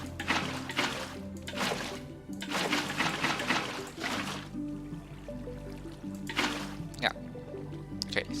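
Water poured from a bucket in Minecraft in a deep ocean world, splashing and gurgling in several bursts with bubbly drips, heard under a speaking voice.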